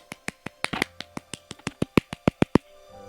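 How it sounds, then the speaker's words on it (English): Sharp, crisp hand claps close to the microphone, about fifteen in a quick, uneven rhythm, with no voices. "Just a quick applause through the mic for you guys"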